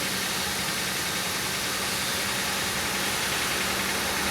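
A Chevy Venture engine idles steadily after a harmonic balancer replacement, a constant broadband hum and hiss with no squeal, close by and unchanging.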